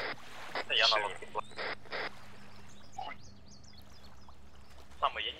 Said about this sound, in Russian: Это я на лодке